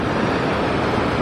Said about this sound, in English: The waterfall is gorgeous.